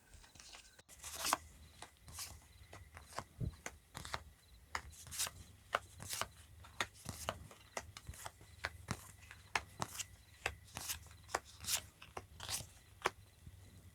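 Tarot cards are handled during a reading: sharp, quiet shuffling and flicking clicks come in an irregular run of crisp snaps and rubs, close to the listener and with no talking.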